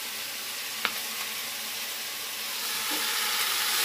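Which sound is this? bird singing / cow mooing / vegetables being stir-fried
vegetables being stir-fried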